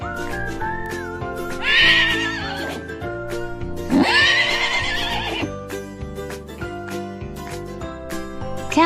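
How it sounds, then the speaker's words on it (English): A horse gives two loud, shrill whinnies, one after another, over light background music. "a baby horse is a foal."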